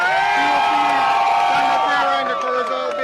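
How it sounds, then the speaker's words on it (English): A crowd at a Corozal Bay constituency victory event in Belize roars and cheers loudly and continuously, with whoops and shouts blending into a dense, sustained wall of sound. "A round of applause, please,"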